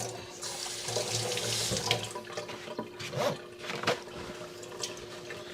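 Tap water runs into a sink as a cast iron pan is rinsed, a steady close stream with splashing and scraping bursts partway through, no talking.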